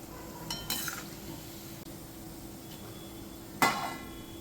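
Dal vada lifted out of hot frying oil, with a steady low sizzle throughout and two sharp metallic clinks of a slotted spoon against the pan, close and fairly loud, no talk.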